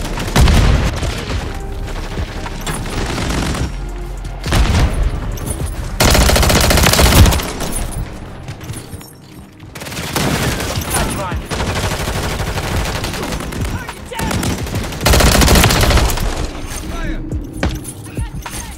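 Grenade blasts and gunfire in Modern Warfare III multiplayer, loud bursts of automatic fire and booming explosions in surging waves with brief lulls between.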